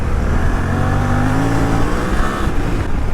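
Suzuki V-Strom 800DE adventure motorbike climbing a steep hill, its engine droning loudly and steadily with a rising rev and no talk over it.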